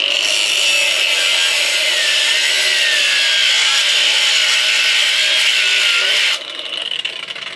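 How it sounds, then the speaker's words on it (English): An angle grinder cuts through the metal of a scrap microwave with a loud, close, steady high whine for about six seconds, then drops to a quieter rattling spin-down. "See if I can cut some more out with the grinder."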